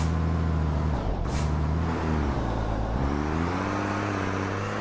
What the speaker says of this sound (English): we proceed to very, very loud trucks.